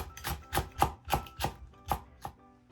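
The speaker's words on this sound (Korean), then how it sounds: "청양고추도 어슷 썰어주세요" A kitchen knife slices onion, scallion and chili peppers on a cutting board for a spicy cuttlefish salad, giving about eight crisp, evenly spaced chops close up with no talking.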